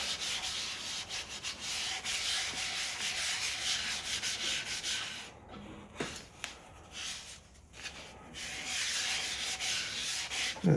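A sanding disc grinds against a walnut wood platter in a steady, close hissing rasp that dips and thins briefly midway before resuming at full strength.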